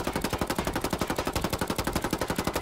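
Automatic weapon fire in the video game Ghost War PVP: a rapid, evenly spaced burst of roughly a dozen shots per second, close and steady for almost three seconds, with no speech.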